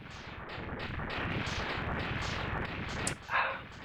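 An explosion in the video game Mega Man X3 gives a loud, rumbling burst that rolls on for a few seconds, then fades and ends with a short, bright flare.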